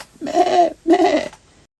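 A lost lamb bleats twice in quick succession, each call wavering and about half a second long, close and clear with no other sound around it.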